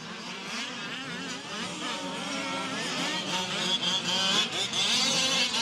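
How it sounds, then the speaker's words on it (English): Fifth-scale M16 RC trucks race past on a track's front stretch during an A main, their small engines buzzing and whining continuously, loud and near with rising and falling pitch, while a race announcer's voice carries faintly underneath. "We got Gordon coming on the front stretch, who is still in first."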